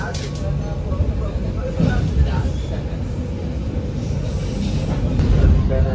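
Ride aboard the KA Pandalungan train between Sidoarjo and Probolinggo, a loud steady rumble of the carriage with rattling and faint clicks, sustained throughout.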